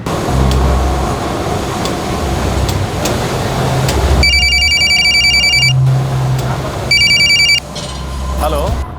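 A telephone rings in two bursts of rapid electronic trills, loud and close, with a low hum and background chatter beneath.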